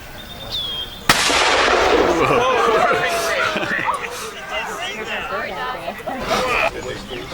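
A historic black powder gun is fired at a French and Indian War fort site. One sharp loud report is followed by a long rumbling echo, while a crowd chatters and murmurs throughout.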